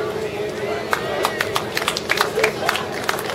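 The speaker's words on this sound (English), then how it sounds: "Big cheer for these guys." Crowd at a championship event in Australia cheers and claps for the Turkish team, a steady wash of voices with scattered sharp claps throughout, fairly close and loud.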